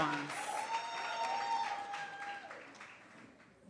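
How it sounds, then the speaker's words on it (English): Graduation audience applause for special awardees, a moderate burst of clapping that fades over a few seconds, with a sustained tonal note and some voices underneath. "let us clap our special awardees for doing such a great job in all the departments"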